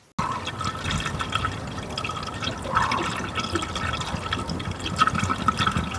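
Water pours steadily into a car's cooling system during a timing belt job, a continuous close gurgling fill with faint drips and trickles beginning after a brief silence, no speech.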